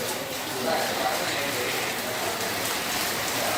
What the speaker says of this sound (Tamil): அன்ஃபார்ச்சுனேட்லி மழை பெஞ்சு கதையை கெடுத்துருச்சு.